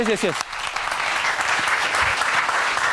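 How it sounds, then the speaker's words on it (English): An audience at a talk event breaks into a steady wash of clapping that continues throughout, with a brief voice heard at the very start. "And when Sherwin comes, everybody, applause."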